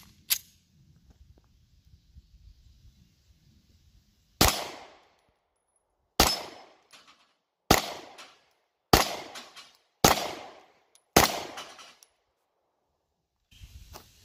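Six sharp 9mm shots from a Beretta Nano pistol, each a loud crack with a quick decaying tail, spaced about one to two seconds apart after a quiet stretch of faint handling noise.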